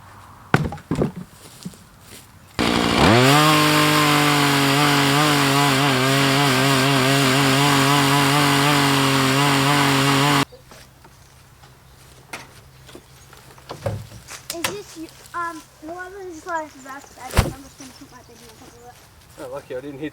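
A chainsaw starts with a rising pull, then runs loud and steady for about eight seconds while cutting old enclosure wood, before cutting out to quieter thumps, knocks and people talking.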